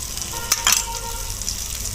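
Onion pieces and ginger-garlic paste fry in a hot pan with a steady close sizzle, interrupted by a couple of sharp scraping stirs.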